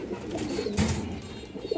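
A pigeon coos in a short low burble, close and fairly quiet, with a faint rustle partway through.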